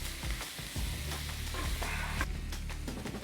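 Pork sisig sizzling in a hot pan as mayonnaise is folded in, a steady close hiss with intermittent scraping and stirring thumps, fairly quiet, no voices.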